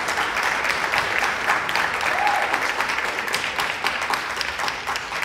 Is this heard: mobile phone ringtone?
no